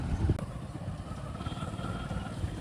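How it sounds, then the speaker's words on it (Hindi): A motorcycle engine runs close by with a steady rumbling clatter throughout, brought home by a rider carrying long pipes on the bike. "तो मैं बाइक ले आया हूँ भाई,"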